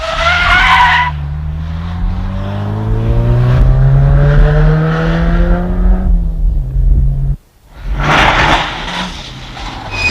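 Ford Sierra Cosworth 16-valve turbo rally car with 204 hp at a special stage of the Rallye des Cévennes: a loud engine note that rises and falls through the gears, with tyre skid, a brief drop near the end, then a sharp roar returning.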